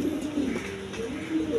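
Fancy pigeons of various breeds, kept indoors, give a low continuous cooing nearby, with a soft hum behind it.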